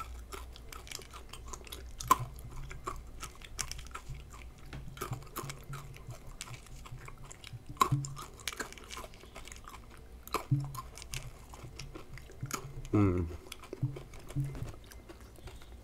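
Cadbury Gems chocolate candies are chewed close up, with soft crunches and bites recurring irregularly over a quiet background, plus a few louder sharp snaps.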